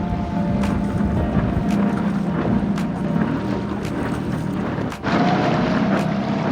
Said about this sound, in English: Right now there's a massive tanker going by